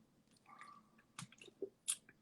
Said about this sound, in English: I drink some water.